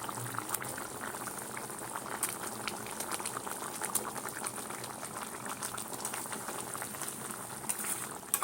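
A pot of curry with fritters and prawns simmers on the stove, a faint, steady bubbling with a dense patter of small pops that continues unbroken and without voices.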